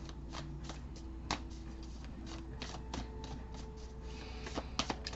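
A deck of tarot cards is shuffled by hand nearby, producing continuous riffling and soft slapping taps for about five seconds at a quiet level, with no talking.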